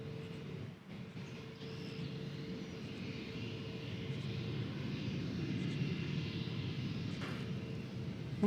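A jet airliner at DFW Airport gives off a steady, broad engine roar with a faint high whine, holding fairly even and slowly swelling over the span.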